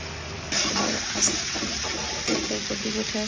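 Spices and cauliflower sauté in hot oil with a loud, close, continuous sizzle, while a spatula scrapes and taps against the pan in quick strokes.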